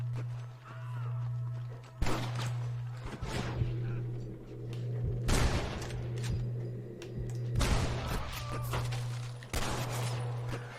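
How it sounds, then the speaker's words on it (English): Gunfire in the Red Dead Redemption video game: a series of sharp shots spread over several seconds above a steady low hum, moderately distant. "I can hear more gunshots."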